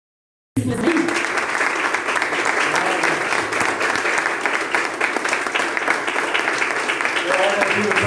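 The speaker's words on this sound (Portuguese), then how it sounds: "Vamos receber o pastor aplaudindo a Cristo." A church congregation applauds continuously and loudly during a Holy Communion service, with dense, steady clapping filling the space from start to finish and voices mixed faintly into the crowd.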